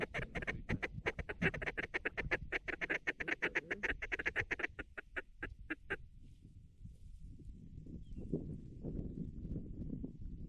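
Mallard ducks quack in a rapid, dense series during a duck hunt, fairly faint and distant, before the calls break off and only a low rumble of background noise remains.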